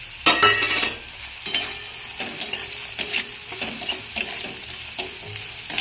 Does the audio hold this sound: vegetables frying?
yes